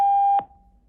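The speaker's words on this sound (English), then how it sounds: "leave a message after the beep" An answering machine beep before a message on an automated phone line: a single steady electronic tone lasting about 0.4 seconds, clean and close, ending with a soft click and a faint fading tail.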